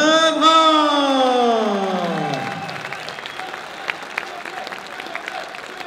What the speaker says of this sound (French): Je vous demande d'applaudir bien fort Jordan Lebrun.